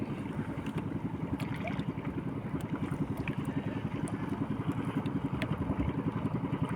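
Small motorized fishing boats chasing needlefish chug steadily across open water, their engines a continuous rapid low putter with faint clattering, steady and moderately loud throughout.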